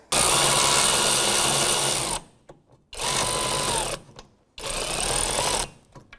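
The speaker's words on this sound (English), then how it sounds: "I'm just snugging them up because I'm going to torque them down after." A power tool snugs up rear wheel hub bolts on a 2001-2007 Volvo V70, running in three loud close bursts of about two seconds each, separated by short quiet gaps.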